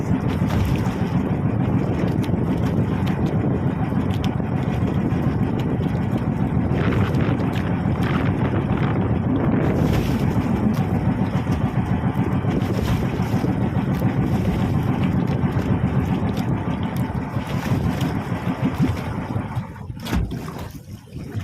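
Strong wind and waves batter a fishing boat out at sea, a loud, continuous roar of gusting wind across the microphone that eases off briefly near the end.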